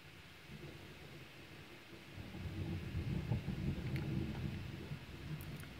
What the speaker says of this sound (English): it's a terrible thunder and lightning tonight